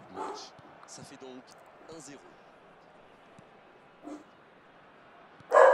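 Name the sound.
dog barking and whimpering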